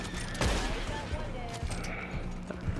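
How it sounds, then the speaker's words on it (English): Gunfire in Red Dead Redemption 2 Online: several sharp shots ring out, one loud crack early then a few fainter scattered reports, with ambient game sound between them. "Them boys is shooting."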